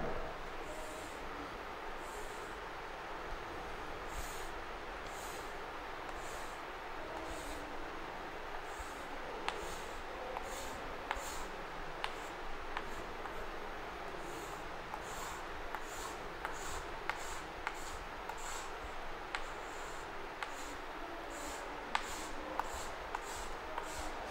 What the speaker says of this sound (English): Longitudinal wave, we are drawing a diagram.